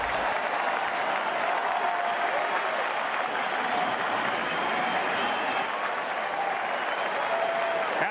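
Steady applause and cheering from a large baseball crowd after a strikeout to end an inning in a 2012 NLCS playoff game, a dense continuous roar holding at even loudness throughout with no talk over it.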